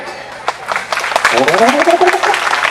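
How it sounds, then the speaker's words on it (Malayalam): Fans of Thalapathy Vijay applaud at a comedy show: steady crowd clapping that swells and fills the whole stretch, with voices talking and calling out loudly over it. "നമ്മുടെ ഇവിടുത്തെ ദളപതി വിജയുടെ ആരാധകരുടെ കൈയടിച്ച് കേക്കട്ട്"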